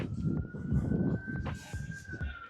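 An emergency vehicle siren holds a steady high wail across a busy town centre street in Swindon, England, sounding fairly close over the low rumble of traffic and footsteps.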